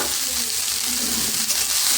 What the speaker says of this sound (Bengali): এবার নাড়ছি দেখো একটুও কড়াই লাগিয়ে নে